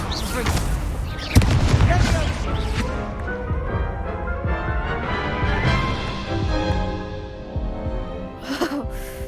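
Spell-casting combat in the Hogwarts Legacy video game brings a sharp crash and a run of booming blasts with whooshes and impacts, loud and dense, under a voice calling out spells.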